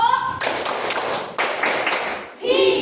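A class of students clapping in a rhythmic classroom clap game, a few loud, separate group claps with short gaps between them, close and sharp, with a voice briefly heard at the start and end.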